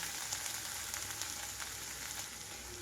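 Ridge gourd pieces fry in a pan as ground chili powder goes in, a soft, steady sizzle and crackle, faint and close, with no talking.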